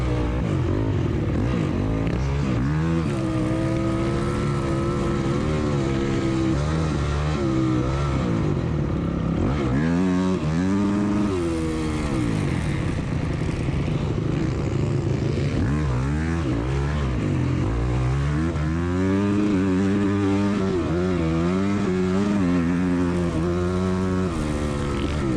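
Motorcycle engines roar through the first lap of a race, with a loud, constant drone that rises and falls as riders rev and shift.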